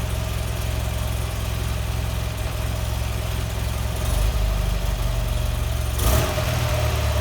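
A BMW R100 motorcycle engine fitted with Mikuni carburetors idles steadily, a loud, close, even throb that rises slightly partway through, with no talking.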